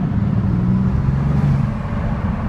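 A Bugatti Veyron being driven, its low engine drone and road roar steady and close throughout, with no voices over it.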